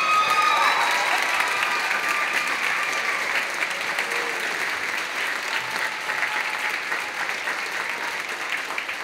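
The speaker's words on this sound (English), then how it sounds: "Let's give them a round of applause." Audience applause at a high school choir holiday concert, a dense, sustained roar of many hands clapping with a few cheers or whistles near the start, gradually tapering in loudness.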